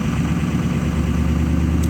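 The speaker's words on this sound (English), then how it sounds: "I'll rev it up again." A 2006 Ford F250 Super Duty with the 6.0 Power Stroke diesel, suffering hard starts, held at high revs: a loud, close, heavy engine rumble that stays steady and continuous throughout.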